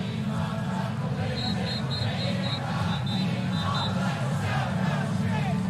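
A college football stadium crowd at a cold night game between Syracuse and Wake Forest roars and celebrates, a thick continuous rumble of voices with a few high whistle-like tones cutting through.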